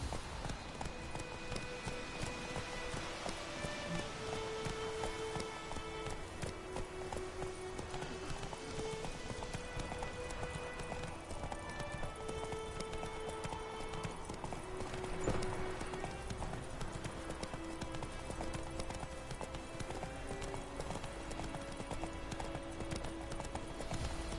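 Roach, the horse in The Witcher 3, gallops with steady clip-clop hoofbeats, played against continuous orchestral game music that runs the full length of the clip.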